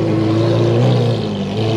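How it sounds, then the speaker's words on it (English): Lamborghini V12 supercar engine revving at a car gathering, a loud, steady, close engine roar with a slight rise and fall in pitch through the brief stretch, no talk over it. "You gotta love the sound of that V12."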